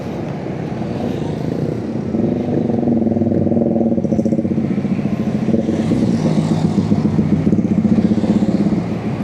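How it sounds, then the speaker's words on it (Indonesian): A mixed group of motorcycles, Honda CB and Kawasaki Ninja bikes, rides past on a city street on a Saturday night, their engines droning and rising steadily in a loud, continuous pass. "Ada CB, ada Ninja, campur-campur motor mereka nih, grup."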